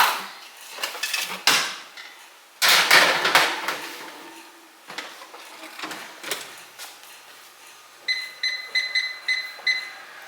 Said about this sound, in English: the oven just beeped